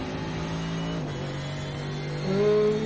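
Mercedes GT3 race car engine in the iRacing sim, IMSA sportscar race: a steady mid-pitched engine drone holds throughout, dipping briefly near one second, then swelling louder as revs climb toward the end.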